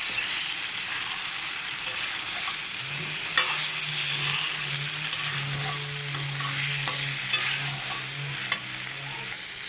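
Cauliflower stirred with spices and Kashmiri chilli in a frying pan: a continuous oily sizzle with repeated scraping and clicking from the spatula, close and fairly loud.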